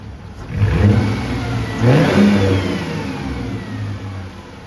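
A Mercedes W203 with a straight-piped exhaust revs from the front to about 2,000 rpm, the engine note rising and falling in a couple of loud, near swells before settling back toward idle.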